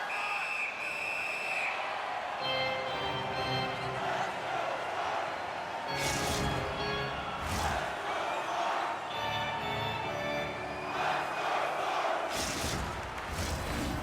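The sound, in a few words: hockey arena crowd cheering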